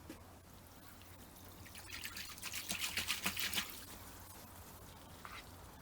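Garden hose water pouring into an inflatable Bestway Lay-Z-Spa hot tub, a soft steady trickle and splash that swells briefly in the middle before settling back to a faint, continuous flow.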